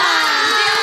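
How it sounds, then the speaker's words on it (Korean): A brief burst of studio audience cheering and shouting at a K-pop radio show, loud and sustained with excited voices blending together. "자, 일단 박수 먼저 치도록 할게요."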